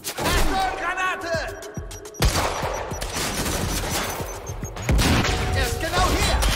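A chaotic firefight in the Quantum Break video game plays out with dense, rapid gunfire from several weapons, crackling bursts and impacts that continue almost without a break. Shouting voices are mixed in with the shots.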